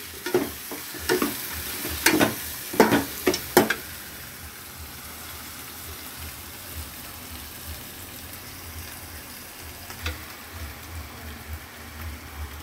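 Grated raw mango mixture for mango pulihora fries in a pan, with a few loud scraping stirs at first, then a steady, soft crackling sizzle that carries on alone.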